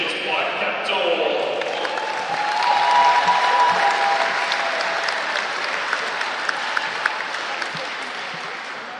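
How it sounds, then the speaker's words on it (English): A gymnasium crowd applauds the under-17 girls basketball champions, Waikato, a broad sustained roar of clapping with scattered sharp claps and thuds, while an announcer's voice carries over it. "nice round of applause there"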